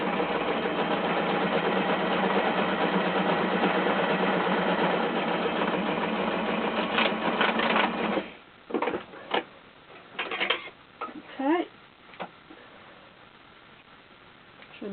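A sewing machine runs a lock stitch along a fabric seam on a bag, a steady whirring hum for about eight seconds, then it stops, leaving a few faint clicks and handling noises.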